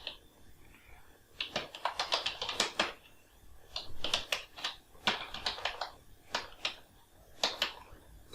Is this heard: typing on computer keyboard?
yes